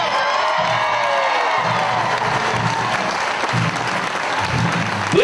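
A crowd at a Little League homecoming reception claps loudly and steadily for arriving players, with scattered cheers and children's shouts mixed into the sustained applause.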